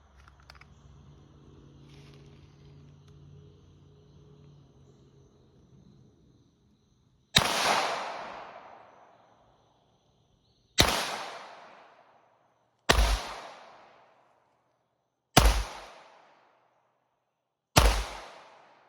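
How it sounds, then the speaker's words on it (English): Five sharp, loud .22 shots from an FN502 pistol fired downrange without a suppressor on an outdoor range, spaced a few seconds apart, each with a quick decaying echo after a low background rumble. "get set and put a few shots downrange for us"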